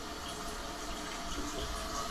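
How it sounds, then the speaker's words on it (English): Water from a toilet fill valve runs steadily down the drain, a continuous close rushing hiss with no breaks or voices. "I'm at this point just running water down the drain"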